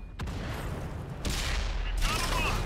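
A tank cannon firing in the World of Tanks video game on Xbox: one heavy blast followed by a second burst of booming gunfire, loud over a steady engine rumble.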